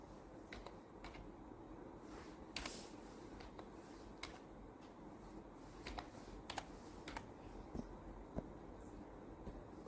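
Computer keyboard typed on to enter a captcha, soft irregular key clicks in short clusters over a quiet room hiss.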